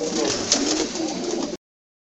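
A loft full of racing pigeons gives off steady overlapping cooing and rustling, close and busy, then cuts off abruptly to silence after about a second and a half.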